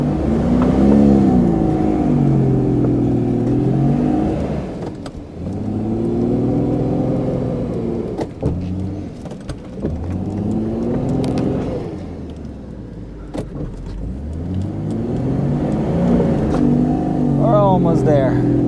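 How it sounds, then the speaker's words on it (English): A vehicle engine revs and labors through deep snow on a trail toward a mountain lake at about 7000 ft, rising and falling in loud, close surges with tires churning, and someone speaks between the revs. "This is some awesome snow wheeling."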